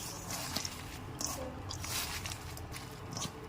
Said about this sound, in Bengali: এগুলো আমি এখন ভালোভাবে চটকে নিব।